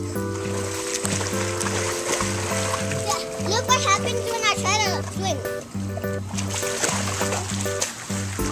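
A child kicks and splashes in a swimming pool during a swim lesson, with steady nearby water splashing under a voice and people talking throughout.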